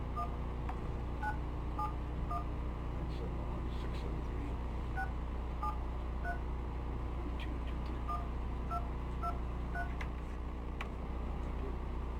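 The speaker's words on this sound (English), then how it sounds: "if we'd like to dial the phone number" Short telephone dialing tones beep in repeated bursts at a county commissioners' workshop in Curry County, Oregon, sounding clear over a constant room hum.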